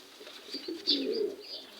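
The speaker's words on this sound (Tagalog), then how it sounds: "Ganda pong ibon." Soft, low coos from a banded racing pigeon repeat in a gentle rolling pattern, close by, with faint higher chirps from other birds in the background.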